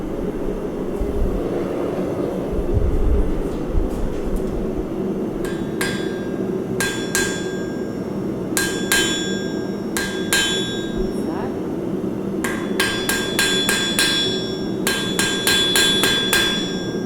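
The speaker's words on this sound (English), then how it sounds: "when you're first hammering the metal" Hot metal is hammered at a forge to shape a taper, with sharp ringing blows coming in quick clusters over a low steady background roar.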